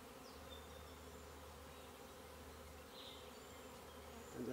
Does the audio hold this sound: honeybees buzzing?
yes